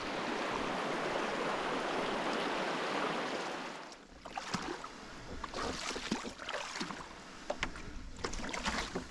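Steady rushing water gives way to canoe paddle strokes splashing and dripping close by, irregular dips and knocks against a quiet river backdrop.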